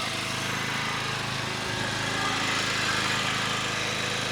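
Racing RAC 3100-A gasoline generator running steadily, a constant broadband engine drone with low rumble that stays even and close throughout, with no speech over it.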